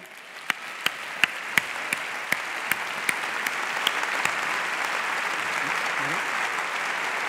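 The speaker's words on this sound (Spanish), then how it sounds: "un fuerte aplauso" A crowd at an awards gala bursts into applause, starting with a few sharp claps that swell into steady, sustained clapping filling the room.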